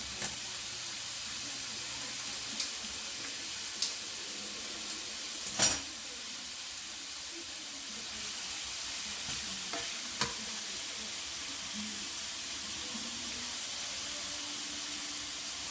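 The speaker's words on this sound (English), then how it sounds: "I'm going to cook at the same time with this chorizo." Chorizo sizzling steadily in a frying pan for breakfast burritos, a continuous bright hiss broken by several sharp spatula knocks and scrapes as it is stirred and broken up.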